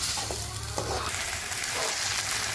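Onion with ginger-garlic paste frying and sizzling in a pan for a village-style prawn curry, a steady close hiss with faint stirring scrapes running throughout.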